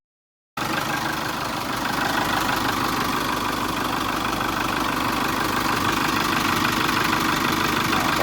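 Chevrolet Colorado engine idling steadily while warming up after a starting fault repair, a constant close rumble that begins abruptly and holds an even, unbroken drone.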